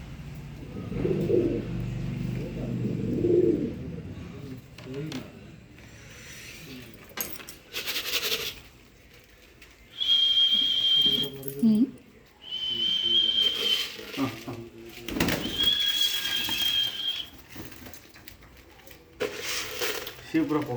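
Pigeons coo while drinking water from a container, giving soft, rolling calls close by, mixed with shuffling, a few sharp whistling tones and frequent talking.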